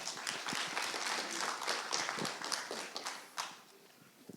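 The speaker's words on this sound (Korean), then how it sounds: "큰 박수 부탁드리겠습니다" An audience at an international OSC symposium applauds an invited lecturer. Dense, even clapping holds steady, then thins out and tapers off toward the end with a few last scattered claps.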